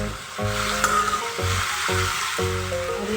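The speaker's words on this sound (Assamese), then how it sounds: "আৰু হালধি দি এইখিনি মই ভাজি ল'ম" Bay leaves, dried red chilies and turmeric fry in hot oil for an Assamese mustard curry, making a loud, steady sizzle under repeated clattering strokes of a stirring spoon. No voices are heard.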